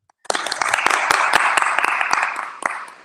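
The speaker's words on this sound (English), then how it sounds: "Can everybody out there give Karen a round of applause?" Applause from a church congregation breaks out suddenly after a brief pause and holds as dense, steady clapping with a few sharper claps standing out, then fades near the end.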